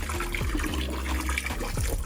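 Water splashes and trickles as it is poured into cattle feed mash, a short burst of liquid sloshing close by with no voices.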